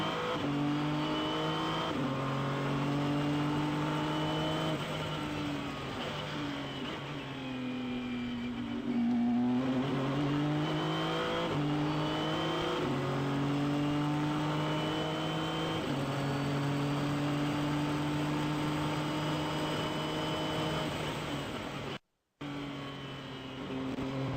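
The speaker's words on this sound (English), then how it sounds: "allowing you to enjoy the sights and sounds of Ryan Briscoe in the 551." A race car engine drones loudly and continuously at the 2013 12 Hours of Sebring, Ryan Briscoe driving car 551, its pitch rising and falling through gear changes and revs, with no talk over it.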